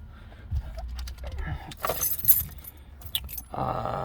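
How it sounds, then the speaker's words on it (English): Car keys jangle close by during an interior walk-around of a 1993 Lancia Delta Integrale Evo 1: a few bright metallic clinks and rattles over a low background hum, with no talking. "we got a few keys here."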